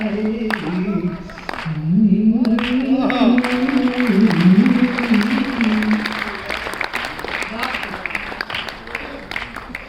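Audience applause fills a convention hall during a Hindi poetry and ghazal evening, with sustained clapping that swells and stays loud for several seconds while a voice talks over it.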